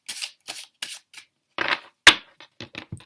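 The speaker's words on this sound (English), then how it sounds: "I'm going to cut the deck and take 4 cards" A deck of tarot cards is handled and cut, giving a run of short, papery riffling and slapping bursts close by, spaced out with brief pauses, with no talking.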